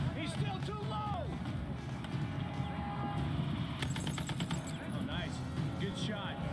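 Gunfire in combat between a Taliban sniper and US troops: a quick burst of sharp cracks around the middle, over steady background rumble, with someone talking throughout.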